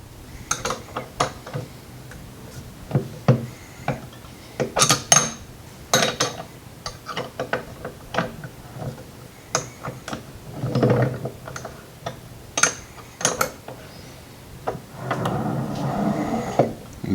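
A Lee Precision reloading press arm worked by hand while needing lubrication, giving a series of close, sharp clicks and squeaky mechanical strokes in an irregular rhythm, with a few longer grinding movements.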